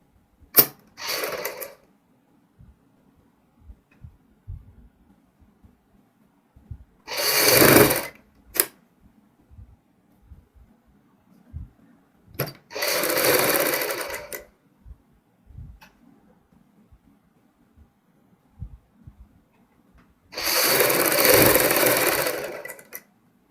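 A sewing machine runs a seam along a kurti in four separate bursts of close, loud whirring, with soft handling clicks in the quiet gaps between them.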